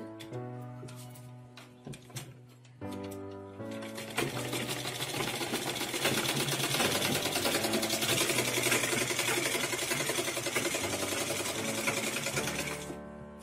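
A tailoring sewing machine joins skirt panels for a step skirt, first in short stop-start bursts and then in a long, loud, steady rattle of rapid stitching. No one speaks.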